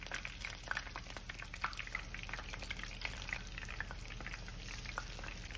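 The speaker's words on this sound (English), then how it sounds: "I'm frying them in avocado and olive oil" Zucchini flowers fry in avocado and olive oil with a steady, close crackling sizzle, full of small irregular pops and spits, heard alone without speech.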